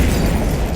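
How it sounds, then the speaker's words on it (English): A massive explosion erupts from beneath a platform in a town square, a dense, loud roaring blast filling the whole short moment without a break. "from right under the platform, there is a massive explosion."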